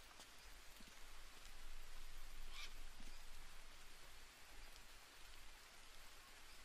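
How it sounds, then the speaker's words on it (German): Rain falls steadily in the jungle survival game Green Hell, a soft, continuous patter and hiss with a few faint drips and a brief distant bird-like call, quiet and without talk. "Es regnet wirklich ohne Ende."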